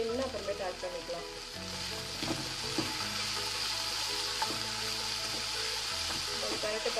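Cluster beans poriyal, a South Indian stir-fry, sizzles and fries steadily in a pan while being stirred, a continuous close crackle with occasional scraping.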